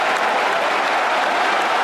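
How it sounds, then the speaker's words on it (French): Dense, steady applause from a large stadium crowd celebrating, a continuous wash of clapping with no pauses, loud and enveloping throughout. "La photo de Maître Wade sur les écrans et les applaudissements retentissent."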